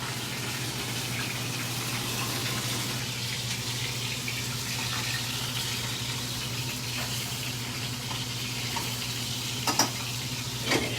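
Steady sizzle of garlic frying in a pan as white wine is poured in, a continuous hiss with faint clinks and stirring near the end, no voices.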